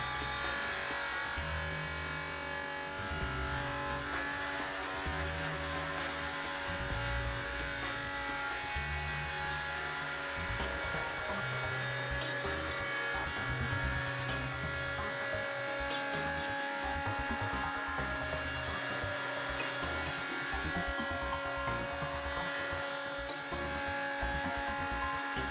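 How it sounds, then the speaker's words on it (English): A BDS AutoCUT 500 automatic beveling machine milling a bevel edge on metal plate, a constant loud electric motor whine with rhythmic grinding pulses early on and a steady tonal hum throughout. "set the cutting depth of the second stage and repeat the milling procedure into the opposite direction"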